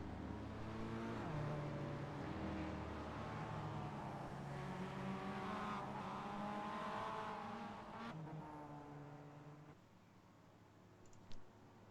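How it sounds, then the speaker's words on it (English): Touring cars in a sim racing game rolling off at Sebring: a steady engine drone with layered revving harmonics, easing slightly near the end, with a sharp click close to the finish. "As the cars begin to roll off here at Sebring"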